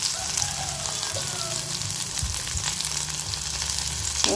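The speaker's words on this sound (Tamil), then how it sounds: "இப்போ இதில் கருவேப்பிலையை சேர்த்துக்கலாம்." Curry leaves crackle and sizzle in hot oil alongside sautéed onions, a steady close frying hiss with soft stirring sounds and faint spatters.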